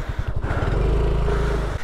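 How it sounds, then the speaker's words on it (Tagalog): A Yamaha Mio automatic scooter engine starts with a quick stuttering putter and settles into a steady close idle. "Kung mag-start ng motor, i-on mo yung key switch, pindot sa likod."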